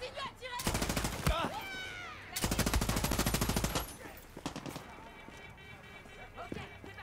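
Rapid automatic gunfire in the Far Cry 6 video game, two long sustained bursts of rattling shots close and loud, followed by scattered single shots and game effects, with a player talking over it.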